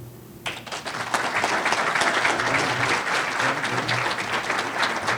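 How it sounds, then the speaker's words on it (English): Applause from an audience at a sports awards ceremony follows an athlete's thank-you speech, a dense, steady clapping that swells quickly and holds loud and close throughout. "Another big round of applause for Dao Dao."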